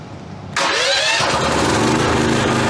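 A car engine fires up from a push-button start after quiet, catching abruptly and settling into a loud, steady idle close by.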